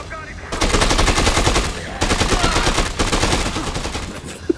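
Mercenaries open fire in the Dead Rising 2 video game: loud, sustained machine-gun bursts rattle almost continuously, with a brief break midway and a few final shots at the end.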